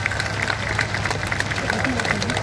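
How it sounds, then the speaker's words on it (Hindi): A crowd at a public event claps to welcome the chief minister, steady scattered applause mixed with crowd murmur and a low background hum. "सब कोई अपने स्थान पर खड़े होकर के तालियां बजा करके उनका स्वागत करें।"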